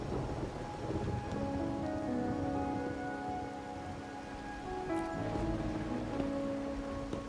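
Rain falls steadily in a night scene from the video game Wuthering Waves, a constant soft hiss with low rumbling thunder and a faint tonal music bed woven through.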